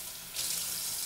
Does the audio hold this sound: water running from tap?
yes